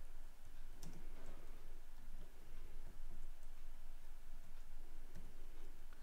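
Typing code on a computer keyboard, a steady stream of quick, close key clicks continuing throughout with a faint background hum and no talking.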